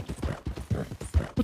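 Horse hooves clip-clop in a steady, close rhythm during a ride in a video game, loud and alone with no talk over them.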